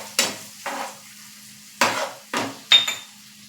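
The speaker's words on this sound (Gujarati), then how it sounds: "આ મસાલાને 2 મિનિટ સુધી ચડવા દેશું" Masala sizzles in a pan for wheat-flour noodles while a spatula stirs it in about five distinct scraping strokes over a steady low frying hiss, close and clear, with no talk.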